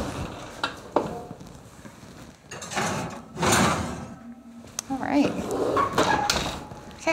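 In a home kitchen, an oven door is opened while a strawberry shortcake is being baked. It makes a few clunks and mechanical scrapes, mixed with other kitchen handling noises.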